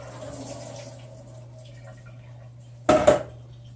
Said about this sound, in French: Je vais me servir de ma passoire pour aller goûter mes pâtes au lavabo.